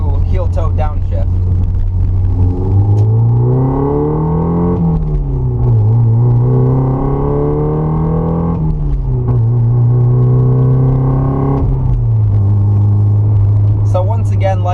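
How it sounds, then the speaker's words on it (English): A Porsche 944 engine drones as it pulls through the gears, its pitch climbing steadily and then dropping at each shift, repeating several times, loud and close from inside the car while a voice talks over it. "it definitely is fun to rev up and go through the gears and build up some speed"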